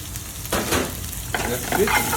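Onion and garlic fry in a pan with a steady sizzle, broken by two bursts of stirring scrapes partway through, close and fairly loud with no talking.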